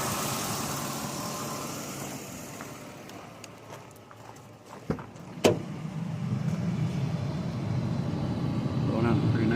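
A Ford Ranger engine runs after a new AC compressor clutch and belt go on, a steady close mechanical hum that dips briefly, with a couple of sharp clunks before the running sound swells again; a voice speaks briefly.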